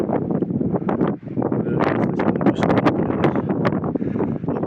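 Gusty wind in Senj, Croatia buffets the microphone close up, rumbling and flapping in uneven bursts with a brief lull partway through.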